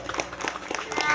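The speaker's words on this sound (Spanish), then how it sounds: "¡Vamos a dar fuerte el aplauso!" Hands clap at a birthday celebration for a young boy, a short burst of quick applause from a small group with voices mixed in.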